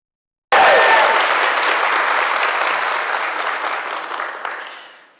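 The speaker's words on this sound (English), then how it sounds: "Can we please get another round of applause?" An audience bursts into sudden, loud applause celebrating author Kennedy Ryan at a book event, sustained clapping that gradually thins and fades over several seconds, no voices over it.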